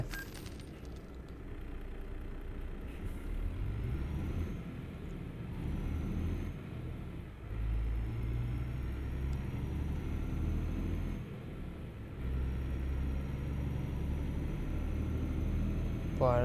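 Low, steady engine drone and road rumble from a MAN Lion's Coach bus cruising on a motorway in a driving game, fairly quiet and constant with small rattles and clinks throughout.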